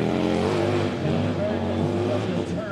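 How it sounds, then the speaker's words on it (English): A big-engined Harley-Davidson hill climb motorcycle with a long swing arm idles with a deep, steady rumble, loud and close, while a voice talks over it. "this motor is very deep in sound and very unique"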